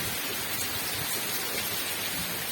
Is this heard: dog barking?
no